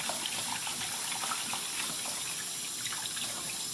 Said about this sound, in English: And then we'll pour that excess water out.